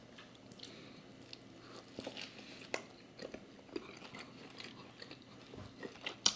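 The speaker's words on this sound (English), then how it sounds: "I'm going to take another bite here." Close, quiet bites and wet chewing of a sirloin burger topped with cheddar, onion and butter, with scattered soft crunches and squishy smacks at an irregular rhythm.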